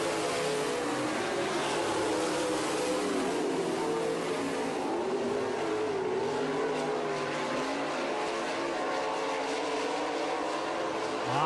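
Dirt track race cars roaring off turn 4 at a dirt oval, a dense, loud engine drone with rising and falling revs as several cars pass, steady throughout with no talk.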